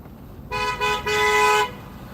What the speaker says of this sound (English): They were honking from a half a block away.